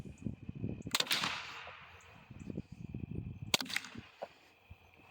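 A rifle is fired in an ammunition penetration test. Two sharp, loud shots ring out about two and a half seconds apart, each with a short decaying tail, over quiet outdoor background noise.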